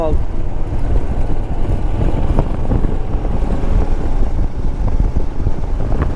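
A motorcycle ridden along a deserted forest road near Bhangarh Fort in Rajasthan, its steady engine drone mixed with continuous wind buffeting across the microphone, loud and unbroken throughout.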